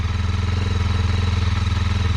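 Steady idle from a close-miked 2020 Kawasaki KLX230R with fuel injection, its low even thump repeating without pause and a faint tappet clatter riding on top.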